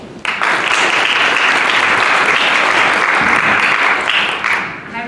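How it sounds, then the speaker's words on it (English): A crowd gives a warm round of applause to welcome two speakers onto a stage at a startup talk, loud, dense clapping that starts abruptly, holds steady, then tapers off. "So please give a warm round of applause for Jess and Ritu."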